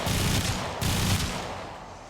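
Heavy gunfire from Mesa's Peacemaker pistols in the game Warframe: two loud, dense bursts of rapid shots, then a ringing roar of sustained fire that fades slightly, with no voices.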